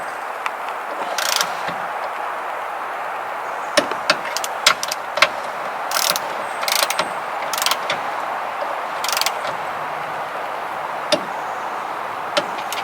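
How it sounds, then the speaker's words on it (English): Ratcheting clicks of a torque wrench tightening the bolts on an Andersen hitch, short bursts of clicking spread irregularly over a steady background, close by with no talk. "I'm going to reset my torque to 40 pounds, so a little bit less, and then I'm going to torque these down."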